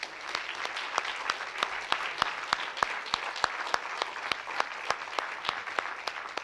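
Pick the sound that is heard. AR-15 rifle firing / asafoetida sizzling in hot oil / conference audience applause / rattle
conference audience applause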